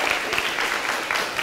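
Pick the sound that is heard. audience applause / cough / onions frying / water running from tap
audience applause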